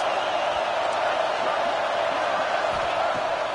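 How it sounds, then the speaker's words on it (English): A stadium crowd roars continuously during a college football game between Oregon and Washington, a dense loud wash of cheering that holds steady throughout. "Listen to this crowd just shaking the girders of this place, trying to help their defense."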